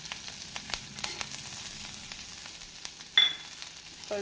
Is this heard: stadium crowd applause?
no